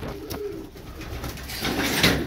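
Pigeons coo softly nearby in a loft or bird market, a few low throaty calls over a faint background murmur.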